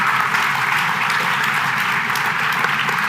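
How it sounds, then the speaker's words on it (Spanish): Sustained audience applause for a panel of speakers at a business conference session, steady and dense throughout with no talking over it. "Quiero pedir un fuerte aplauso a Macarena, Isabel, Andrés."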